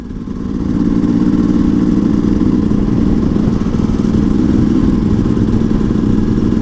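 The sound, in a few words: motorcycle engine running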